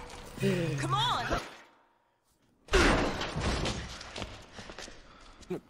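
A bent metal door slams in Resident Evil 5 co-op play with a loud, sharp crash and rattle midway through, as players talk over the game audio before and after.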